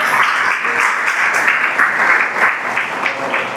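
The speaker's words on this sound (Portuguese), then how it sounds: "Aplauda o Senhor." A church congregation applauds during a sermon, a continuous, fairly loud roll of clapping from many hands with small swells, sustained without voices for a few seconds.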